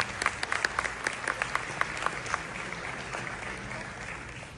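Audience clapping at a concert hall show, a close, crisp burst of hand claps that thins out into a steady wash of applause, with a voice faintly present underneath.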